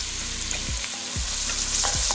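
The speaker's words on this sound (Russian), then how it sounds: "И пошел лук в сковороду." Diced onion sizzles loudly in a frying pan while being stirred, a steady close crackle broken by several scraping strokes of a utensil.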